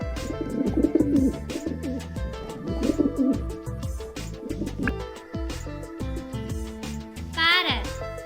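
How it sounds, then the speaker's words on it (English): A pigeon coos softly a few times, its low throaty calls partly blended into a steady bed of background music. "Pigeon."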